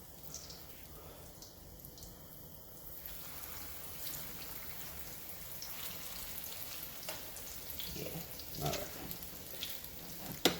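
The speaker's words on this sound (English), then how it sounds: "So I am going to carefully place these in the oil." Chicken pieces for chicken parmesan being laid into hot oil in a pan, a soft crackling sizzle that builds and grows busier toward the end, with a few sharper pops.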